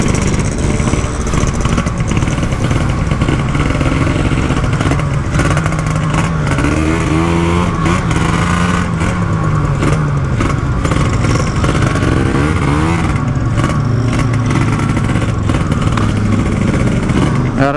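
A Yamaha RX King motorcycle fitted with a Ninja 150 engine revs hard and loud close by, the engine note rising and falling steadily for the whole stretch.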